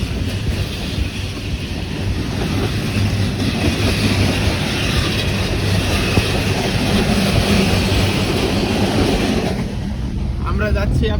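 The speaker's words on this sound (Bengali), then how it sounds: "ট্রেন যাচ্ছে পাশ দিয়ে আর আমরাও যাচ্ছি আপনার ট্রেন ঢুকতেছে এখন শান্তাহারে" A train passing alongside and pulling into Santahar station in Bogura, Bangladesh, a loud continuous rumble and rattle heard from aboard a moving train, fading toward the end.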